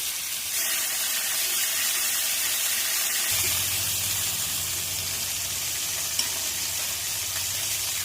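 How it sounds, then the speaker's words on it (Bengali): Eggs and potatoes frying in hot oil for egg biryani, a loud continuous sizzle that deepens and thickens partway through, with no voices. "এই যে এবার ডিম এবং আলুগুলোকে আমরা ভেজে নেব।"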